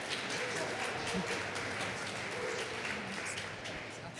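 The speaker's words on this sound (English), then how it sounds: "Huge round of applause for Loud Parade" An audience at a live startup podcast recording applauds steadily, a dense wash of many hands clapping at moderate distance that holds throughout, slightly tapering at the end.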